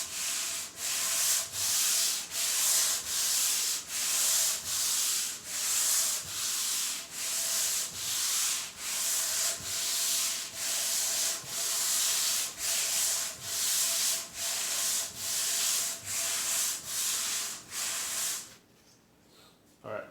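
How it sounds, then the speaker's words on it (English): A butcher-block wood counter being sanded by hand with 80 grit sandpaper, heard as steady rhythmic rasping strokes with the grain, close and loud, roughly two strokes a second, stopping near the end. "So I have some 80 grit sandpaper here, and we're just kind of going over it."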